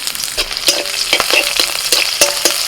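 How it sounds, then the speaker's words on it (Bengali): Green chillies, dry red chillies and chopped onion hit hot oil for a dal tempering in a chicken paturi thali, crackling and frying loudly with sharp spatter pops and stirring clatter, close and unbroken by speech. "ফোড়নে দিচ্ছি কাঁচা লঙ্কা, শুকনো লঙ্কা"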